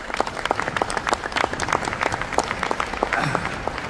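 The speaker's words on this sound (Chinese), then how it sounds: "所以我们是不是给瑞味一个掌声" An audience at an indoor leadership training conference breaks into applause, a dense, steady patter of many hands clapping at moderate distance for several seconds, with no voices.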